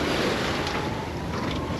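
Strong wind roars across the microphone in a steady, dense rush, with the wash of water and a moving sailboat beneath it, during a crossing from Morocco to Spain.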